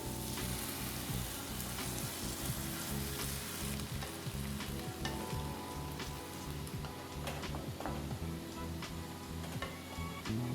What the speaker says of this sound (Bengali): সবজিগুলো অর্ধেক ভাজা হয়ে গেলে আমরা সেদ্ধ করে রাখা ডাল সবজিগুলোর মধ্যে দিয়ে দেব।